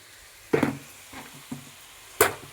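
Beto greens stir-fried in a pan already seasoned with salt and turmeric, giving a few sparse, sharp scrapes and clacks of the utensil against the pan with quiet gaps between them.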